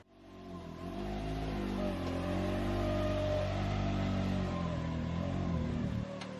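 A Can-Am X3 side-by-side engine starts and idles loudly nearby, its rumbling, steady drone holding while the vehicle is backed out, with slight shifts in pitch as it moves.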